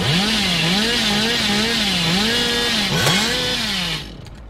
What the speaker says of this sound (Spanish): Y luego que la motosierra se sobrecalienta.